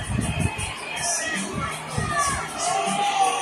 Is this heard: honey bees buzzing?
no